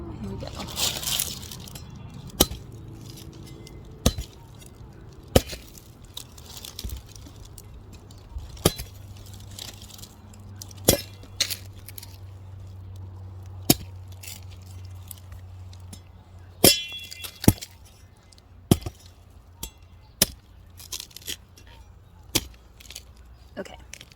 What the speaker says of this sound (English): we're going to open up the coconut and see if it's still good